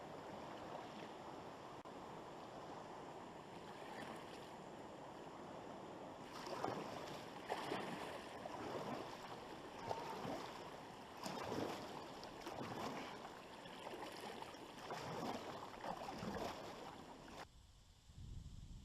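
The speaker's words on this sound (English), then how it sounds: "water's really rushing around that corner up there" River current rushes around a bend, heard from a canoe, a faint, continuous wash of moving water with soft splashes and paddle knocks, dropping away near the end.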